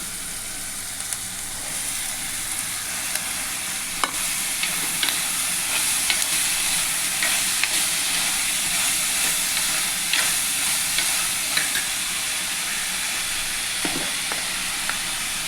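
Athalakkai (bitter gourd) frying in a pan, a loud, steady close sizzle with a bright hiss throughout, punctuated by occasional scraping stirs and clinks of a spoon against the pan.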